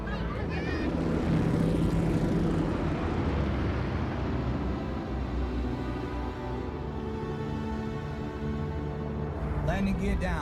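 Propeller aircraft approaching an airfield to land in a wartime TV drama, a loud continuous multi-engine drone with steady harmonic hum filling the whole stretch, with voices speaking over it.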